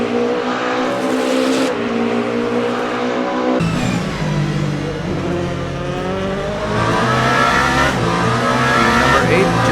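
Race cars in the Le Mans Ultimate sim at the 24 Hours of Le Mans, a Proton Porsche among GT3 and LMP2 traffic near Arnage, engines loud and close with sharp revving, downshifts and pitch swings.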